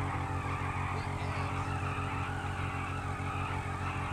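A Ducati motorbike ridden in the GTA 5 video game, with a steady droning engine and tire noise that holds level and loud throughout, with no talking.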